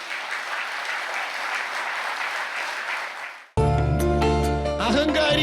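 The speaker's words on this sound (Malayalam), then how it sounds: "ഒന്ന് കൈ ഉയർത്തി കൈയടിച്ചേ." An audience at a Catholic priest's sermon breaks into sustained, dense hand clapping for about three and a half seconds. The applause stops abruptly and loud music takes over.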